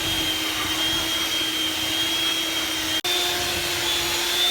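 An electric hand mixer beats eggs into tea cake batter with a constant close whirring motor drone and a high steady whine, briefly cutting out for an instant before resuming.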